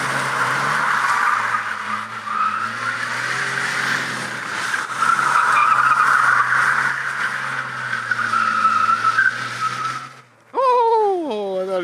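A BMW E46 drift car with a welded differential slides with a sustained engine drone and tire skid noise, loud and continuous. It cuts out briefly near the end, then returns as a rising engine rev.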